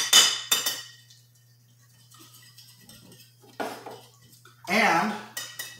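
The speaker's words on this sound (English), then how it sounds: "now we are going to whisk these bad boys up" Eggs are whisked in a bowl with metal utensils, giving irregular clinks and scrapes against the dish in short bursts. Quiet gaps fall between them, and a voice is briefly heard near the end.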